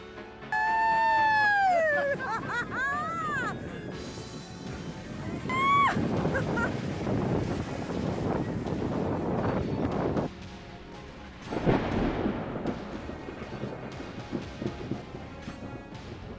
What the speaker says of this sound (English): Massive waves thundered ashore as Storm Ellen hit along the Cornwall coast, turning the seaside landscape violent and dangerous.